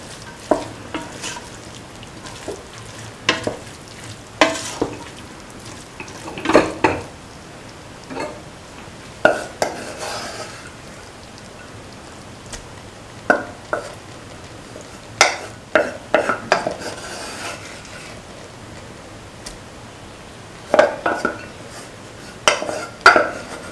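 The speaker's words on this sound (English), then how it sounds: "Mixing the rice" Rice stirred in a pan while frying for cauliflower potato rice, with irregular scraping and clinking of a spatula against the pan over a quiet sizzle, close and alone.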